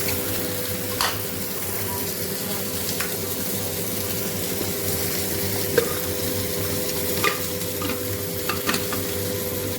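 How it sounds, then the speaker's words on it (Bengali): Fish fries in a pan with a steady, moderate sizzle that holds throughout, broken by a few sharp crackles and pops over a low, constant hum. "আমার ততক্ষণ মাছ ভাজাটাও হয়ে গেছে,"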